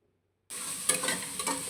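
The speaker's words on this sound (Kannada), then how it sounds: "ಹಾಕಿ ಚೆನ್ನಾಗಿ ಈ ಥರ ಹುರ್ಕೊಬೇಕು ತಳ ಕಚ್ಚಕ್ಕೆ ಬಿಡಬಾರ್ದು" Chicken frying with turmeric in a pan, a sharp steady sizzle that starts abruptly after a brief silence, with soft scraping from stirring over it, close and continuous.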